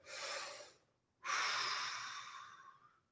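Two slow breaths during a vocal warm-up exercise, a shorter inhale followed by a longer, drawn-out airy exhale, close and clear with no speech.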